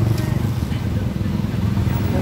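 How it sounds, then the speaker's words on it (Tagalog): Road traffic with motorcycles on a loop road in Laguna, a steady close engine drone and low rumble of passing motorbikes and cars filling the whole stretch without pause. "Ito mga kalakbay, ito mga traffic dito sa Mikabuyaw."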